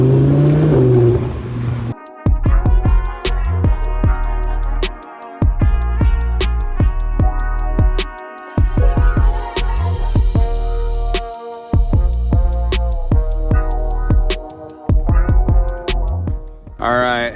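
An Audi R8 Spyder V10 pulls away in town traffic, its engine rising and dropping through repeated revving surges and gear changes, loud and close, with a voice talking briefly at the start.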